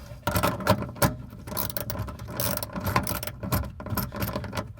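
A 9/16 wrench tightens the nut on a kayak's universal skeg kit, making a close series of irregular metallic clicks and ratcheting turns.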